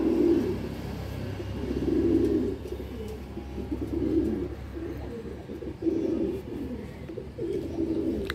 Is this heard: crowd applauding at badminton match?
no